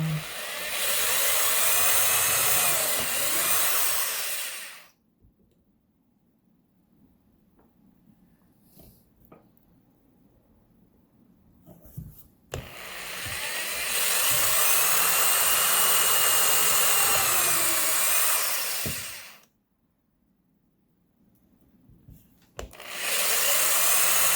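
A power drill bores pilot holes into wood in three loud whining bursts of several seconds each, separated by quiet stretches with faint handling noises.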